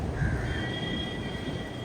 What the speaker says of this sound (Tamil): மெட்ரோ போகுது பாருங்கள் பக்கத்துலேயே, ரொம்ப நியர்பை